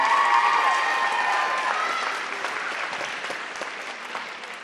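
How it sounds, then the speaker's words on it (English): Pageant audience applauding for the previous year's royalty, a thick steady roar of clapping with some cheering early on that gradually thins and softens over several seconds. "Another round of applause for the last year's royalty."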